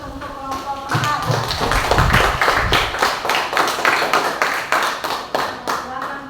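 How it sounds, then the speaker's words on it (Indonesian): Classroom applause for a student group after their presentation, many hands clapping steadily and fairly close for about six seconds, with light taps and shuffling mixed in. "kita beri aplaus untuk kelompok 4."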